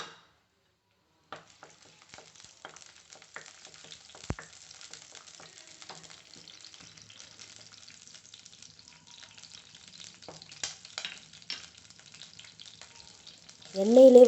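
Garlic and green chili frying in sesame oil for radish sambar, a faint, thin crackling sizzle with scattered pops, close and quiet, with a louder burst of sound at the very end.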